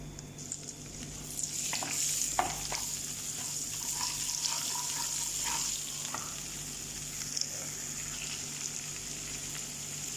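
Green chilies, cumin seeds and asafoetida frying in mustard oil, with a continuous soft hissing sizzle, scattered small crackles and a few faint clinks from stirring, steady and moderately quiet.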